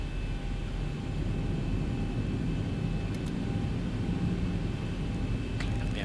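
A Boeing 737 airliner taxiing in a flight simulator game produces a constant, dense engine rumble and hiss at steady loudness, with a couple of faint ticks on top.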